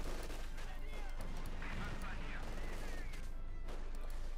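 Light machine gun fire in Company of Heroes 2, heard as a dense, steady clatter of battle sounds. A commentator talks over it the whole time, with distant bursts mixed into the constant noise.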